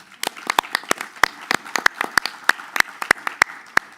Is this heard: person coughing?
no